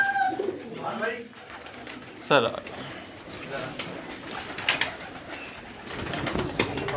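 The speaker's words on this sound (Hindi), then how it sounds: "कबूतर हैं सारे" Pigeons coo on a rooftop loft of breeder birds, soft throaty calls repeating steadily, close by, with someone talking over them.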